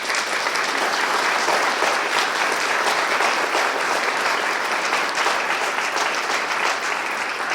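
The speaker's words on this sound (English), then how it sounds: "if we could just give a big round of applause for those that were inducted this morning" An audience at a Veterans Day tribute gives a big, steady round of applause for the morning's inductees, dense clapping running continuously at full strength.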